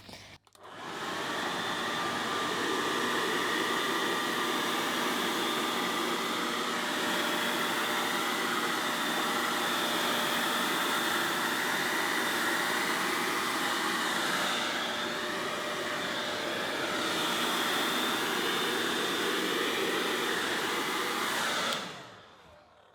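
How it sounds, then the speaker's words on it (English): A hair dryer roars loudly and continuously for about twenty seconds, blowing wet paint across a canvas, with slight shifts in pitch as it is moved, then clicks off. "I want to blow most of the paint off, and the other hairdryer is not so powerful"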